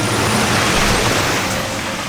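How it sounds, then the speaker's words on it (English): Heavy lorries thunder past on a road along the Sussex border, a loud, steady rush of engine and tyre noise close by, with no talk over it. "Sorry about the thundering great lorries coming down here."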